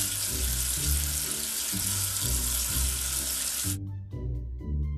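Water from a video game gushes steadily to wash soap off a letter, a loud continuous rush that stops abruptly near the end, with light game music beneath.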